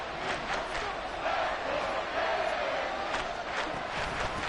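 Stadium crowd in Madden 24 during a Super Bowl game, a steady roar of cheering and shouting voices, moderately loud and continuous throughout with no clear commentary over it.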